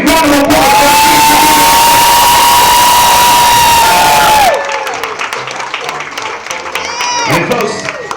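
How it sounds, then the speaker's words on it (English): Wedding guests burst into loud cheering and a long whoop that gives way to applause and crowd noise, which then fade to a lower, scattered murmur with occasional shouts. "how about a nice big round of applause for"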